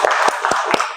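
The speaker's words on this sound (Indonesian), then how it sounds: "Tepuk tangan untuk Melati" A few sharp hand claps from a class of students in a classroom, four quick bursts spaced across a second over a low murmur of room noise.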